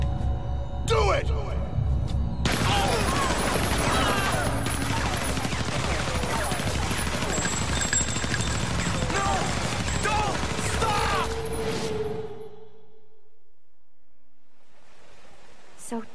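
Rapid gunfire from a firing squad scene in Resident Evil Zero crackles in dense volleys for several seconds, loud and continuous, with shouting voices over it before the shots stop and a near silence follows.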